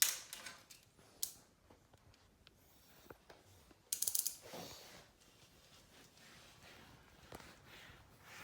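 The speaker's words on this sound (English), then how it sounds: "Let's get a new blade on this thing." A utility knife used for hanging wallpaper gets a fresh blade, giving a run of small metallic clicks and ratcheting snaps up close, with a sharper cluster of clacks midway.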